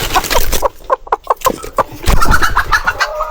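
A native hen clucking at her nest, a run of loud, close, repeated clucks and squawks in quick rhythmic bursts.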